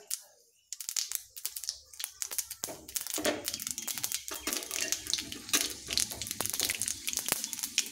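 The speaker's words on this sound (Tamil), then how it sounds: "கடுகு பொரியுது" Mustard seeds splutter in hot oil, a dense, rapid crackle of sharp pops that starts after a brief quiet moment and keeps going steadily, close and fairly loud, with no voices.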